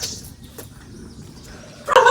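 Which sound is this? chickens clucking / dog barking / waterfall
dog barking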